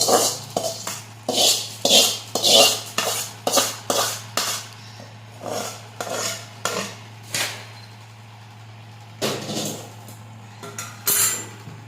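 A spoon works hot chivda, a spicy flattened-rice snack made with black chilli powder in Solapur style, around a metal pan. Rapid rhythmic metallic clinks and scrapes come in quick bursts, then slow and soften, close by with no talk.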